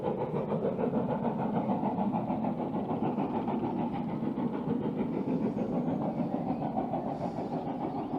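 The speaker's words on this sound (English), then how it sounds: "And there's a steam train." A steam train labours uphill at Roundham, its engine chuffing in a steady rapid rhythm that stays loud and even throughout.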